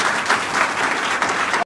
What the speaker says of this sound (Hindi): एक बार जोरदार ताली हमारे